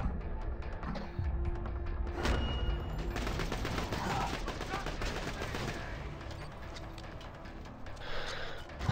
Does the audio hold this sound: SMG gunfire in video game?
yes